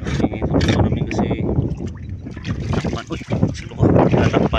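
A small boat's noisy exhaust, with a loose cover over the water outlet, rumbles loud and steady, mixed with wind buffeting the microphone.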